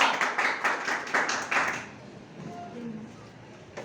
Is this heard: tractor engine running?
no